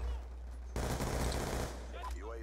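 A Vector submachine gun fires a rapid close burst of about a second in Call of Duty Black Ops 2, under a constant low hum, with someone speaking just after.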